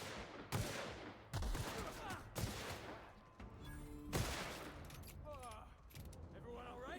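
A grenade launcher fires in The Outer Worlds, a sci-fi role-playing shooter, as several sharp booming shots about a second apart, followed by chirpy energy-weapon and mechanical effects, with battle noise around.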